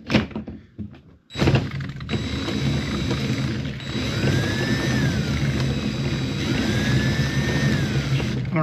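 Cordless driver fitted with a hex bit spinning a 3D printing filament winder, a whirring motor that starts after a brief pause and holds a steady close mechanical drone with faint rising whines and ratcheting clicks.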